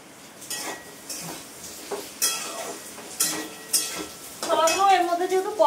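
Pumpkin and chickpea curry is stirred and sautéed in a pan, with repeated scraping strokes of a spatula over a soft sizzle, then brighter clinks and louder frying near the end.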